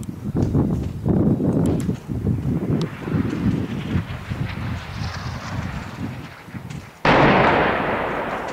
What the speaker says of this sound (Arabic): قصف المدينة بكافة أنواع الأسلحة الثقيلة.